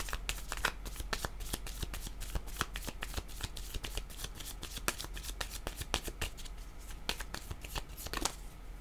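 Close, continuous riffle of cards being shuffled for a card reading, with rapid crisp flutters and small snaps repeating steadily throughout, no talking.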